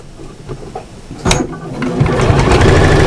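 A sewing machine runs while stitching a pretty Fantasia cushion with a quarter-inch seam allowance; after a couple of faint clicks and a sharp knock, it whirs steadily and loudly, nearby.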